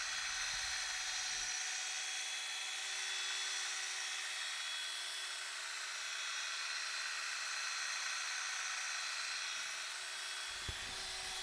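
A steady high-pitched whine of an angle grinder polishing a headlight, running continuously, close and unbroken for the whole stretch.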